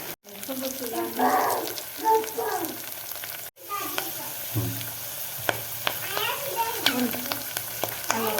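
Coriander seeds frying in oil crackle and sizzle close by, with intermittent stirring clatter and occasional speech over the top.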